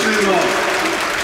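Fans applauding at a Hiroshima Carp season-final ceremony as the manager announces his resignation, a dense, steady wash of clapping from a large crowd with a voice running over it throughout.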